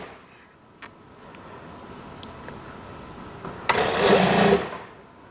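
Sewing machine stitching a 1.5 cm seam on a kimono-style daster, quiet handling noises first, then a short burst of rapid close-up stitching before it stops.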